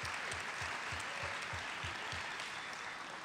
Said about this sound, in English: Give ABS a round of applause for this amazing,